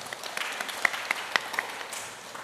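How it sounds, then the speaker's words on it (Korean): A room of people clapping in applause after a talk, a dense patter with a few sharper claps standing out, fading slightly toward the end. "다시 한번 박수 부탁드리겠습니다"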